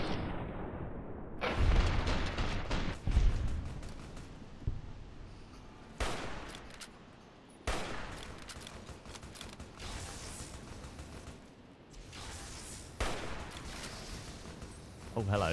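Gunfire from the Fallout video game, with repeated loud bursts of shots and mechanical clatter that come back in waves over a rumbling, noisy background.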